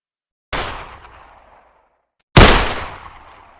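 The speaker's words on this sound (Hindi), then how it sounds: "माटो ने 6 की 6 गोलियां कनपटीमार पर झोंक दी" Two sharp revolver shots ring out as a sound effect, each a loud crack followed by a long decaying echo, well spaced apart.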